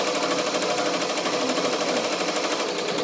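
An embroidery machine stitches the outline of a design on a sleeve, giving a steady, fast, rhythmic mechanical whir-and-tap that holds even throughout at moderate level with no talk.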